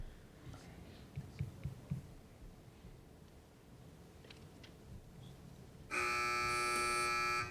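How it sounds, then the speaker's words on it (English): A quiz answer buzzer at a high school academic match blares loud and sustained near the end, after several seconds of quiet room murmur and faint rustling. "Teams wait for the buzzer if you'd like to answer"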